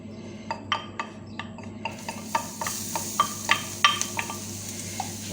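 Garlic in a pan is stirred with a utensil, giving a series of crisp, regular scraping and tapping strokes over a low sizzle, close and clear without talk.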